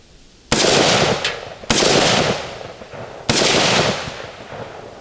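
Three sharp, loud rifle shots from a Smith & Wesson M&P 15 Sport II fired at pineapples outdoors, each a crisp crack followed by a long echoing tail, spaced about a second or more apart, with no talking.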